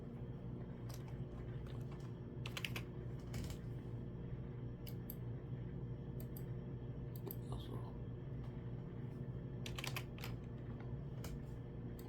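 Typing on a computer keyboard, soft clusters of key clicks at a moderate distance with pauses between them, over a steady low background hum.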